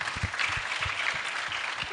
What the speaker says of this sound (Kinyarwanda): Birumvikana rwose twabikomera amashyi.